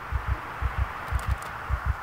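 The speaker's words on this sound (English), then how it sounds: "Oh, they added heartbeat sounds." A heartbeat sound effect from the video game Project Zomboid, a steady series of low paired thumps, about seven beats in quick succession, with no other sound.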